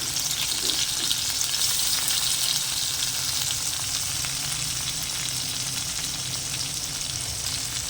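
Chopped onion and tomato fry in oil in a pan for a brinjal dish: a dense, even, loud sizzle holds steady from start to finish with faint stirring beneath.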